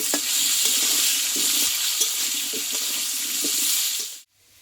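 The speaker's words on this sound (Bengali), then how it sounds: "আমি কষিয়ে নেব রসুনটা" Potatoes and whole garlic cloves sauté together for a Bengali mutton dish, a loud continuous hissing sizzle with regular scraping stirs, close by, cutting off abruptly near the end.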